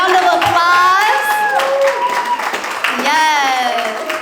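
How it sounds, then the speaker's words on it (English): A theater audience at a post-show talkback gives a round of applause. Loud whoops and cheering voices ring out over a layer of clapping, with a second wave of cheers rising near the end. "let's give them all a round of applause"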